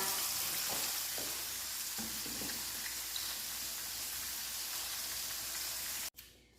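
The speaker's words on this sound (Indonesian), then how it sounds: "Kalau goreng itu jangan dibolak-balik, jadi tepungnya itu tidak hancur ya." Battered crispy chicken satay deep-fries in hot oil with a steady, close sizzle and crackle that runs unbroken for several seconds, then stops abruptly near the end.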